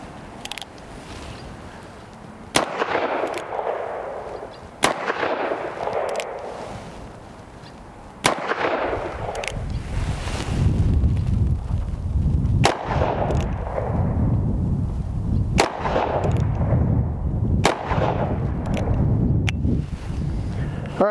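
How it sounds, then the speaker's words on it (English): Wax-load shots from an EMF Gambler Royal 45 Colt revolver ring out as six sharp, loud reports spaced a few seconds apart, with ringing decay and steady low background rumble between them, no talking. "So we're just going to take some nice steady shots at this guy here and see how they do, because I'm not going to risk it with live ammo."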